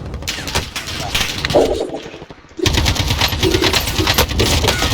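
Gunfire in Call of Duty Modern Warfare: dense bursts of rapid shots, loud and close, with a brief lull in the middle before the shooting resumes, mixed with game noise.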